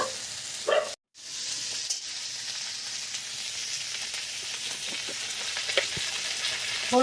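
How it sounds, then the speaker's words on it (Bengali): Potatoes fry in hot oil in a pan for a Bengali potato and pointed gourd curry, a continuous close sizzle and hiss with small crackles and a brief gap near the start, with no voices. "আলুগুলো একটু ভাজা, তারপর মশলাটা দেবো"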